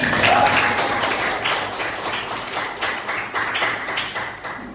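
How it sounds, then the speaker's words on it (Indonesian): A class of students claps in a classroom, a steady patter of many hands that continues for a few seconds and stays fairly even before easing off. "Kita kasih tepuk tangan"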